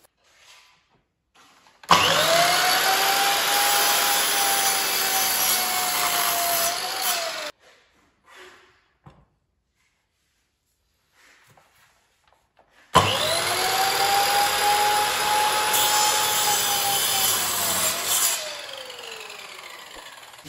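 A power saw cuts wood at an angle for a door frame, two long loud steady whining runs, each starting abruptly and winding down, separated by a quiet gap with faint handling noises, close by.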